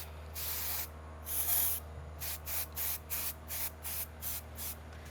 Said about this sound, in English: So I'm gonna spray tail adhesive